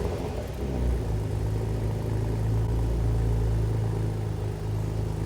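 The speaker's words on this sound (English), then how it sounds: "One of the many things I like about this Macan is the cold start exhaust noise." Porsche Macan SUV exhaust on a cold start, a steady deep rumble with a low engine drone held throughout, close and loud, no voices.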